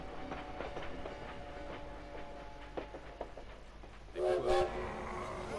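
A train at the Paris depot in Valiant Hearts rolls with rhythmic clicking over the rails, then a short loud horn or whistle blast sounds near the end, over a soft background drone.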